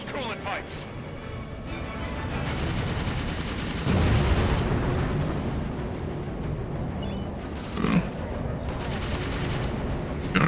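Rapid gunfire from Halo 5 rattles in sustained bursts for about ten seconds, loud and dense with a heavier blast near the middle, while a voice talks over the shooting.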